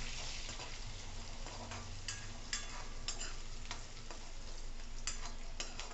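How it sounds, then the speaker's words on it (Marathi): Crushed garlic and green chillies sauté in a tempering for dal methi bhaji. A faint, steady sizzle runs throughout, dotted with light ticks of a spatula against the pan. "आता हे चांगलं परतवून घ्यायचं।"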